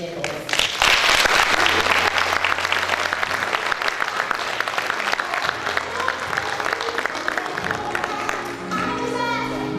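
A conference audience applauds to welcome a keynote speaker, a dense, sustained wash of clapping from a large crowd that stays loud for the whole stretch, with faint voices mixed in near the end.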